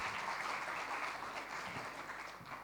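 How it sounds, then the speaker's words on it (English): A conference audience at a climate-smart agriculture event applauds for the top three finalists, a steady, even wash of many hands clapping, fairly faint and distant, sustained throughout without talk. "Give them a big round of applause, because these were the 3 best of the best."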